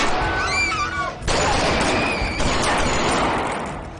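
Gunfire in a shootout between police and armed suspects: a dense stretch of loud, rapid shots and crackling bursts under tense background noise, with a sharp break partway through.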